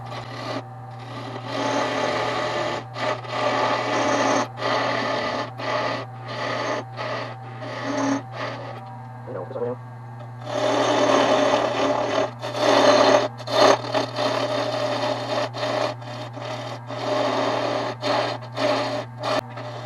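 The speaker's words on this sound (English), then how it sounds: "Use my parting tool." A parting tool cuts into spinning wood on a lathe while turning a baby rattle, a steady loud scraping rasp in rapid pulsing strokes over a constant motor hum, pausing briefly midway.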